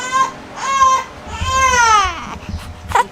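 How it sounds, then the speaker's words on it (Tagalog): A newborn baby cries in repeated wailing bursts, loud and close, with short breaths and whimpers between the cries. "Keep crying, baby."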